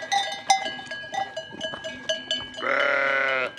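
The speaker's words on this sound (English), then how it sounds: "A writer in the UK also shared this clip of her own strange sheep encounter." Sheep met on a hike in the UK give one long, loud, wavering bleat near the end, after a stretch of quieter rustling and scattered clatter.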